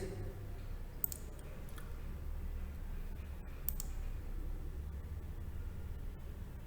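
A computer mouse clicks a few sharp, isolated times over a low steady hum of room and fan noise, faint and close, with no talking.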